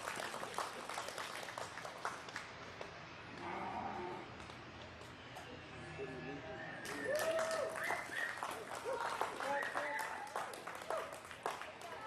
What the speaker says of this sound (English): give this blue division a big round of applause